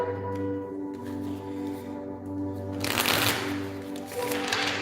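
Tarot cards being shuffled close up, a soft rustling riffle that swells into a louder, denser burst of flicking cards toward the end.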